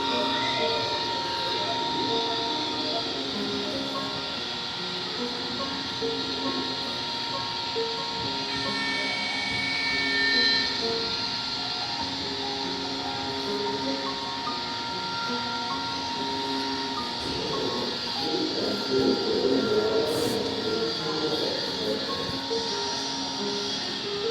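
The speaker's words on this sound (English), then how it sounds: "And here comes the train." A small model train rumbles and whirs steadily along its track at a model railway museum in Malahide, Ireland, a continuous mechanical hum with faint clicks, while a voice talks quietly at times.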